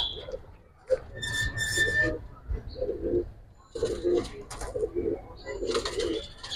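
Jabra pigeons coo in soft, repeated low throaty calls close by at a pigeon seller's, mixed with scattered chirps and a faint high tone, with no talking.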